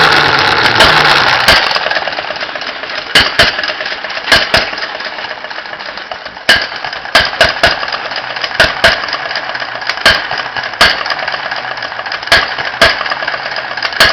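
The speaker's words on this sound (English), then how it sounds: "Once it's warmed up, it tends to run quite nicely and will only hit once and then idle for a period before hitting again." An open crank engine runs after warming up: a steady idling drone broken by sharp, evenly spaced firing hits, loud and close, with a faster burst of hits at the start.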